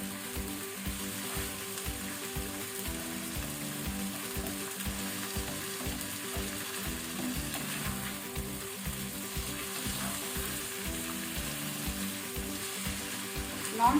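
Chicken with turmeric fries and sizzles steadily in a pan, with a regular scraping rhythm of stirring throughout and no talking.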